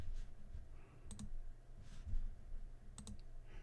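Computer mouse clicking in a couple of quick double-click bursts, faint and close over a low background hum, with no talk.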